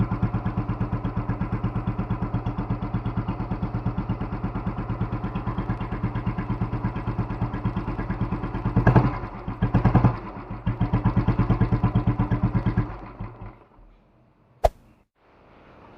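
Old Royal Enfield Bullet motorcycle engine idling with a steady, even thump close by, then a couple of revs before it cuts off and falls silent.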